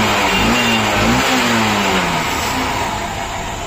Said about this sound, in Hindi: तो देखे गाड़ी स्टार्ट है